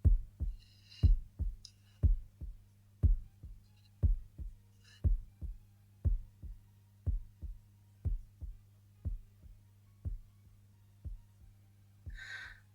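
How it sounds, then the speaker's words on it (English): Faint heartbeat from Pink Floyd's The Dark Side of the Moon, a slow, soft, steady pulse of muffled low thumps repeating over a quiet low hum. "It kind of sounds like a faint heartbeat"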